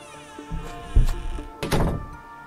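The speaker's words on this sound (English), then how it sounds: "knocking hurriedly." Two heavy, hurried thuds on a wooden cabin door in an animated horror scene, close and loud, with a low, tense musical drone behind.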